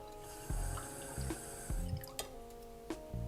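Cold water runs into a ceramic French butter dish over butter in a short, close, steady stream, broken by several sharp knocks and clinks from the dish.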